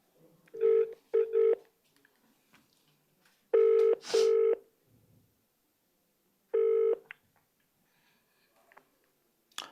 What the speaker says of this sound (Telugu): ఒక్కసారి అనసూయ గారికి కాల్ చేసే ప్రయత్నం చేద్దాం